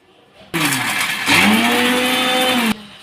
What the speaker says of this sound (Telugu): పచ్చిమిర్చి పల్లీలు ఒక రౌండ్ తిప్పుకోవాలండి మిక్సీ